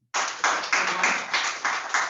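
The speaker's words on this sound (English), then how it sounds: "So now we give him a more applause again." Short burst of clapping at a youth workshop, a few hands striking in uneven pulses for about two seconds, close and moderately loud, with no talk over it.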